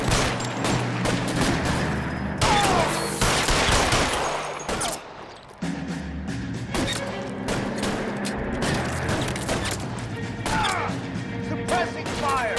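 Sustained gunfire in the L.A. Noire Nicholson Electroplating shootout: dense, loud bursts and rapid volleys of shots with clanging impacts, a brief lull midway, then renewed steady firing under faint voices.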